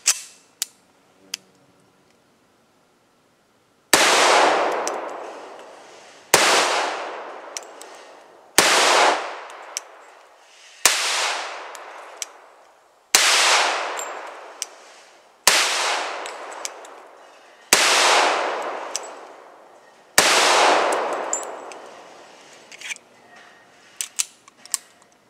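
Eight loud, sharp gunshots from a 1911 pistol firing .45 handloads, spaced roughly two to three seconds apart with ringing decay after each, following a brief quiet stretch, with faint handling clicks at the end.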